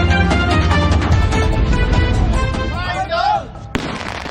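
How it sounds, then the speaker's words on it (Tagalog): Illegal firecrackers confiscated by police in Calabarzon, Philippines, set off in a loud, dense barrage of bangs and crackles that runs continuously, fades slightly near the end, then gives one sharp final blast. "Ganito kalakas ang ilan sa mga nakumpiskang iligal na paputok ng mga pulis sa Calabarzon."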